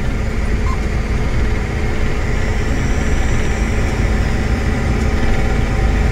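A John Deere 560 RT utility tractor idles steadily, with a constant low engine rumble and no change in pitch.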